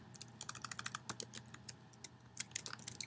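An Excel IF formula is typed on a computer keyboard, a steady run of quick, close, crisp key clicks with brief pauses and no talking.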